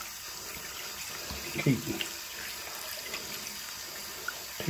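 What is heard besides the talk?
running tap water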